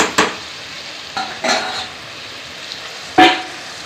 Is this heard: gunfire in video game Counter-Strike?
no